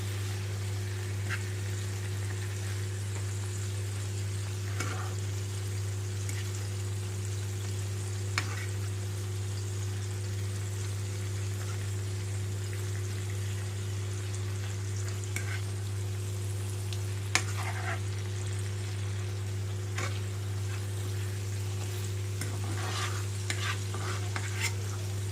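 Beef steak sizzling in a pan after being turned over on low heat, a faint, continuous frying hiss with a steady low hum and a few small clicks, no talking.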